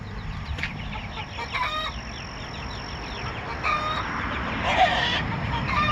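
Month-old Araucana chicks cluck and chirp in a coop, with several short bursts of calls spread over a steady low background noise at moderate distance.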